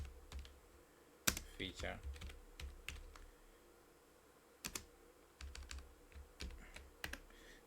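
Someone types code on a computer keyboard in quick bursts of crisp, close clicks separated by short pauses, with a faint voice speaking briefly.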